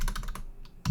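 Fingers tap out a handful of quick keystrokes on a computer keyboard, close and crisp, followed by a brief pause and one final firmer key press, with no voice.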